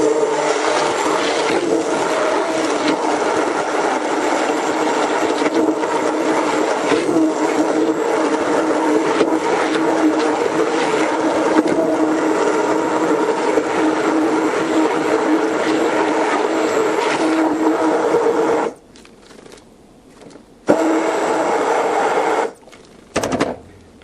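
A blender runs loud and steady, churning kale into a beef and vegetable soup, its motor holding a constant roar before cutting out briefly near the end and starting again in short bursts.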